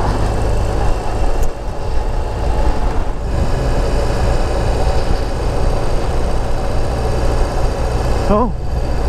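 A 2021 BMW R18 motorcycle engine runs steadily while riding, a loud continuous low rumble with wind noise throughout and a brief change in tone near the end.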